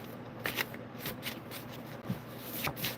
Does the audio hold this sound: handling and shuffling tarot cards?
yes